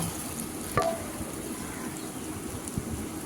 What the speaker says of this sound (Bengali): এবারে ভেজে রাখা আলু আর সয়াবিনটা দিয়ে দিচ্ছি